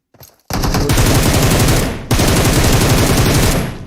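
Loud, close automatic gunfire in PUBG Mobile, a dense rapid stream of shots lasting over a second, a brief break, then another sustained burst.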